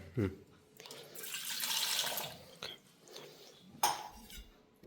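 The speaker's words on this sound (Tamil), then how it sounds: "இந்த டம்ளருக்கு அரை டம்ளர் தண்ணி எடுத்துக்கிறேன்." Half a tumbler of water is poured into a pot to brew filter coffee, a short splashing pour with clinks of metal vessels before and after.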